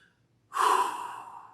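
A single deep, calming breath drawn in and let out alone after a brief silence, a loud breathy rush that swells quickly and then slowly fades as the exhale trails off.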